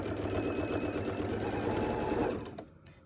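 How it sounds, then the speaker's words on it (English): A sewing machine double stitches a seam on a small fabric hatbox, running steadily and close for about two and a half seconds before stopping abruptly. "Now you may want to do that seam and double stitch it."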